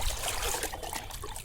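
Rice water is poured onto potted plants, a close, steady trickle and splash of liquid running into the soil.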